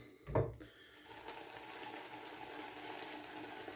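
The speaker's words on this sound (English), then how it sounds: "I'm going to add water." Water runs from a tap into Vi-John shaving cream, a brief loud gush followed by a quieter, steady trickle and fizzing.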